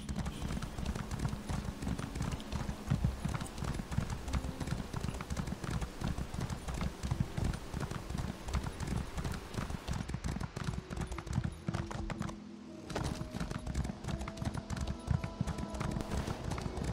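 Horse hooves clip-clop in a steady galloping rhythm as a rider crosses a valley in a video game, continuous and fairly close, with a brief lull near the end before the hoofbeats resume.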